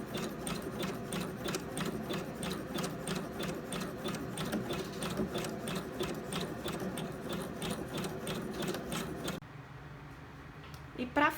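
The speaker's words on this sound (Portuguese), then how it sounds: "então a gente só vai agora fixar ele, porém você vai fazer essa costura esticando o tecido" A sewing machine running a long continuous seam through stretched fabric on a child's pajama shorts, a close, steady rapid needle rhythm that stops abruptly near the end, leaving quieter handling noise, with someone talking over it.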